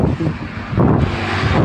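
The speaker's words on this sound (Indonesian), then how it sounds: "Jadi itu angin itu begitu kencang sekali ya teman-teman." Strong wind roars steadily across a rice field of the Inpari 32 variety, a loud, broadband rush buffeting the microphone with no clear gusts or pauses.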